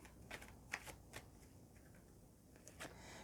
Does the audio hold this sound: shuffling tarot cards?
yes